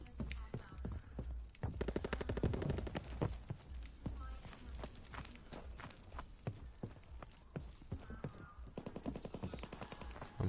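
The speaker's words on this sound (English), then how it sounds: "I'm gonna start with the grease gun" A grease gun fires in a video game in rapid bursts of sharp cracks, with scattered single shots and footstep-like clatter, heard alongside speech.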